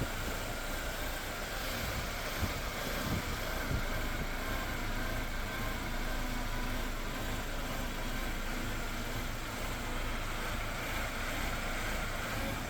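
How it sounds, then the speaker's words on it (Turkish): A Mercedes W124 engine idles roughly because of a faulty air flow sensor, giving a steady low mechanical rumble with a slightly uneven, wavering tone and no talk. "Tekrardan motor sesini dinleyip sallantıya bakacak olursak"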